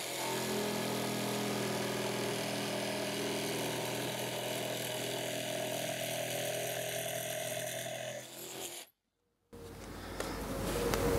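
An HBM 20 V cordless jigsaw with a 4.0 Ah battery cuts on its lowest speed setting, a steady buzzing, rasping saw sound running loud and close for about eight seconds before stopping abruptly, then a brief restart.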